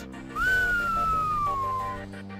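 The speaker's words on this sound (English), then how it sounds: "whistles a long, slow whistle" Long, slow sliding whistle from a character in the video game Shadowrun Returns, a single sustained tone that glides gently downward over steady game background music.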